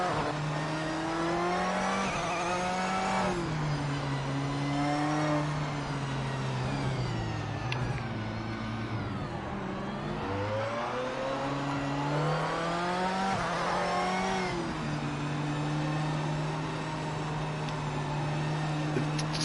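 A mid-engine Corvette in the Project Motor Racing video game revs and shifts repeatedly, its engine note rising in pitch, dropping at each gear change, then climbing again in a continuous, close-up drone.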